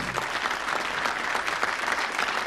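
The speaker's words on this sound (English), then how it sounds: "Don and Jeff, give them a round of applause" A television game-show studio audience applauds steadily for two contestants, a dense, even wash of many hands clapping throughout with no break or talk.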